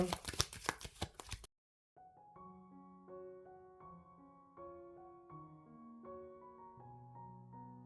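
Tarot cards shuffled for a reading, with a quick burst of close riffling and slapping at the start, then soft music playing after a short gap.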